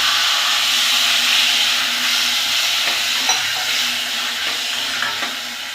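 Chopped tomatoes frying in oil, a loud continuous sizzle that eases slightly as the pieces go in, with faint stirring scrapes and soft pops toward the end.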